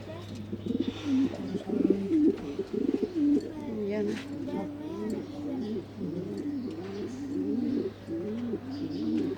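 Pigeons coo on a rooftop in a continuous series of low, burbling calls that are close and clear, with a steady low hum running underneath.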